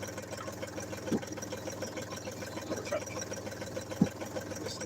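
Canal boat engine idling in neutral while entering a French canal lock, a steady low mid-pitched rumble with faint knocking pulses and a couple of brief clunks, alone without talk.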